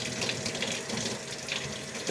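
Cold tap water runs steadily into a sink while fresh cilantro is rinsed, a continuous close splashing gush with no voices.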